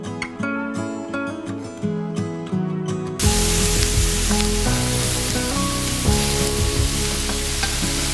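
Breakfast frying hard in a hot pan set directly over an open fire, a steady loud sizzle and crackle that surges sharply a few seconds in and holds, with occasional stirring scrapes.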